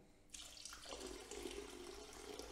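Water pours steadily from a tap after a brief quiet start, a close, continuous splashing stream filling a container of plaster mix.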